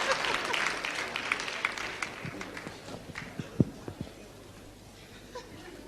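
Audience applause at a 1973 concert in Japan, a moderate crowd clapping that thins out over several seconds, with a few louder claps, some laughter and scattered voices.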